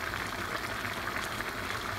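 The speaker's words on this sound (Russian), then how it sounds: "И теперь выпаривается у нас вода. Все бурлит, кипит, как преисподней." A pot of Uzbek plov boiling hard as the water cooks off, a dense, steady bubbling and sizzling roar heard close up without pause.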